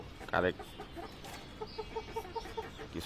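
Farm chickens clucking softly as they eat insects, a run of short repeated clucks over a faint background with a brief louder squawk near the start.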